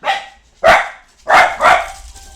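A dog gives about three loud, close barks in quick succession, then falls quiet, with no talking over it.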